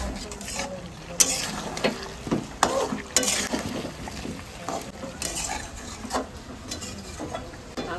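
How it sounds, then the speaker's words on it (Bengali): Mutton being stirred and fried in a pot for a festive home meal, with intermittent scraping and clinking of a spoon against metal over a steady low sizzle, close and fairly loud. "এই যে আমি মাংস কষাচ্ছি"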